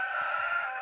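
A rooster crows inside a hen house on a homestead, one sustained, close, loud crow with a strained, buzzy tone lasting nearly a second.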